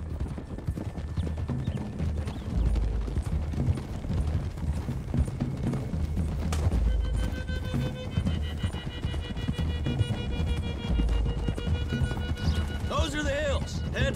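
Rapid clip-clop of galloping horses in Red Dead Redemption 2 runs throughout, with voices talking over it and a horse whinnying near the end.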